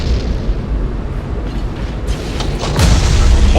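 A transport ship explodes in the space strategy game Battlefleet Gothic Armada, a dense rumbling boom that swells into a louder, sustained blast near the end, with no voices.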